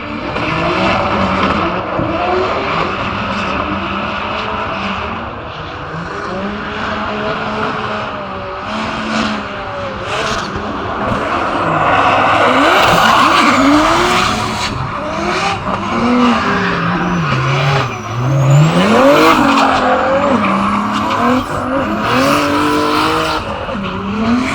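A drift car in a Formula Drift competition battle screams through an e-brake-initiated slide, loud engine roar mixed with sustained skidding and tire squeal that swells and wavers continuously for about twenty-five seconds, no talking over it.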